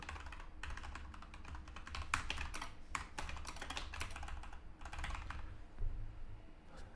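Aggressive, rapid typing on a computer keyboard: a dense, steady stream of hard key clacks with a few louder strikes, close and continuous, with no voices.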